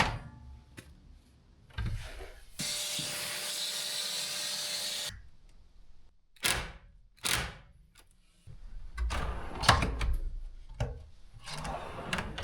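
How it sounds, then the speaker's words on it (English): An old kitchen cabinet drawer is pulled out and removed. Wooden scrapes, rubbing and sliding are broken by sharp knocks and bumps, with a sustained rough grinding passage in the middle and several bursts later. "Finally getting rid of this drawer."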